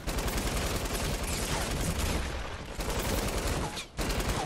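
Dense, continuous gunfire from the video game Fortnite, a rapid loud barrage of shots that briefly drops out near the end before resuming, with little speech over it.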